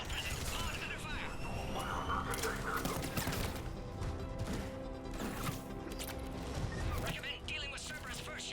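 Gunfire around a checkpoint in Mass Effect 3, dense continuous battle noise with repeated shots, crashes and impacts throughout, under game voices and a busy soundtrack.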